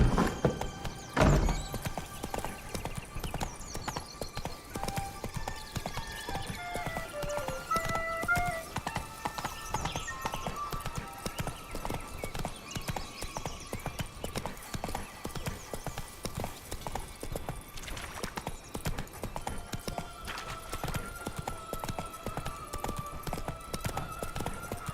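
Roach, Geralt's horse in the video game The Witcher 3: Wild Hunt, gallops in a steady, continuous clip-clop of hooves, with a short whinny near the start and game music underneath.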